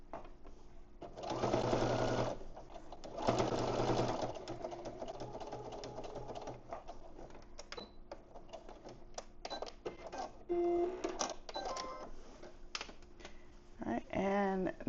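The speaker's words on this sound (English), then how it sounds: "we're going to stitch. Back stitch at the beginning and end." A sewing machine stitches fabric for an oversized bow with long tails, two loud rapid bursts of needle chatter early on, then quieter clicks, fabric handling and short stitching runs, close to the microphone.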